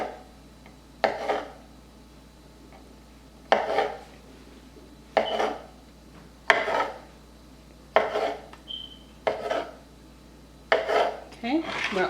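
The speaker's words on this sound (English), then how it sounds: "So I tend to slice these in half" A knife slicing black olives in half on a board, heard as a steady series of separate chopping knocks spaced about a second apart, close and fairly loud, with no talking.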